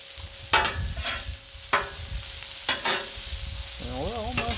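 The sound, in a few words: artichoke hearts sizzling on a Blackstone griddle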